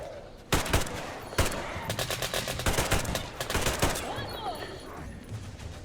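Gunfire from Metro Exodus, with sharp loud shots and rapid bursts ringing out close by over a rumbling background, thinning toward the end.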